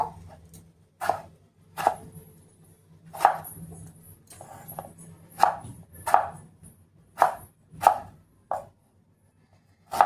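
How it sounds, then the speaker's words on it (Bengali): Tomato chopped with a knife on a board, a dozen or so distinct sharp chops at an irregular, unhurried rhythm, close and clear with quiet gaps between strokes. "এবারে এখানে টমেটোটা কেটে নেব"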